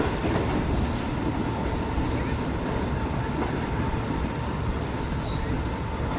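Open gondola freight wagons of a ZB KC train being overtaken, heard from a passing passenger train: a steady, loud rumble and rail roar with faint wheel clatter running throughout.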